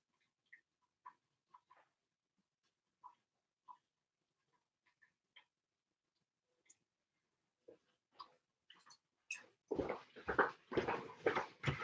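A puppy gives scattered soft, high whimpers and squeaks, faint and spaced apart at first, then a louder burst of whining and rustling near the end.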